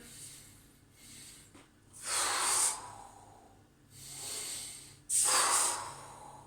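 Deep, forceful breaths in and out during kendo suburi sword-swing practice, three long breathy exhales spaced a couple of seconds apart with quieter inhales between, close and alone with no talking.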